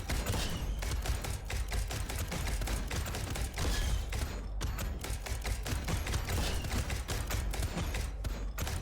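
Rapid, continuous bursts of cannon fire in the Dome Keeper video game, a dense rattling barrage of sharp repeated shots with a brief gap near the middle, steady and loud throughout, with no talking.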